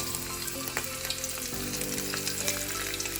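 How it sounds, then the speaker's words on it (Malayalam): Washed dried stingray fish frying in hot oil, a steady, continuous sizzling crackle with small pops, fairly close and with no talking. "നമുക്ക് ഇനി വറുത്തെടുക്കാം തെരണ്ടി മീൻ"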